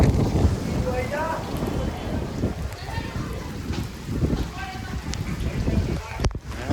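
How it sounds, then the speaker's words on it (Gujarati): Steady night rain patters with low thunder rumbles mixed in as someone talks over it. "વરસાદ એવો પણ છે ને વીજળી પણ થઈ રહી છે"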